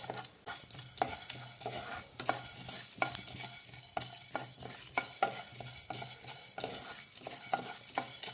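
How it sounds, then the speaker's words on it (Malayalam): Garlic and curry leaves sizzle steadily in oil while a spoon scrapes and stirs the pan in repeated knocks, close and fairly loud, with no voices. "വെളുത്തുള്ളി കരിവേപ്പിൻ്റെ ഇല നമ്മൾ എണ്ണയിൽ തന്നെ വറുത്ത് പോരണം"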